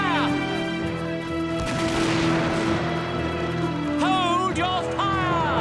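Cartoon musket gunfire from soldiers crackles as a dense, continuous volley under loud shouted voices, with a sustained roaring wash of shots through the middle and yelling rising again near the end.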